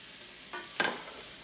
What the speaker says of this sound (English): I have 10 whole garlic cloves here, and I'm just going to toss them in